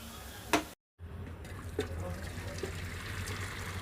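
Tap water runs steadily in a home kitchen while something is rinsed during noodle cooking, a continuous close splashing flow that starts after a brief sharp knock and short silence.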